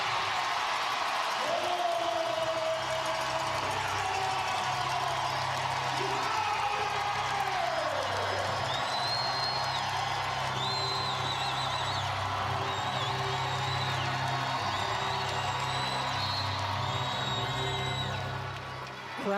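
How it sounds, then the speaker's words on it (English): A loud WNBA playoff crowd cheers and roars through Minnesota Lynx versus Seattle Storm action, a continuous arena din with whoops and whistles rising above it, while a commentator speaks over the noise. "Crowd was so loud, he had trouble hearing the whistle."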